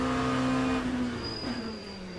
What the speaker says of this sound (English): Having a little bit of difficulty hearing you over this car